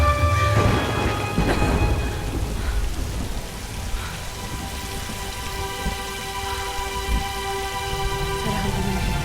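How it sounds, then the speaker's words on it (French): Steady heavy rain pours through a Tomb Raider storm scene, with a rumbling thunder crack near the start and sustained broadband downpour throughout, no voices. "faut qu'on se mette à l'abri de la tempête"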